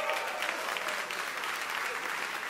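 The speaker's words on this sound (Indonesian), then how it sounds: "Tepuk tangan yang meriah untuk kemuliaan Tuhan." A church congregation at a Christmas Eve service applauds continuously, a dense wash of many hands clapping at moderate distance for a few seconds.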